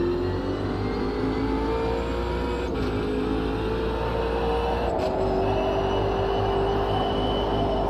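A race car engine in a racing video game drones loudly and continuously, its steady pitch sliding gradually up and down as the car is driven, with no talking.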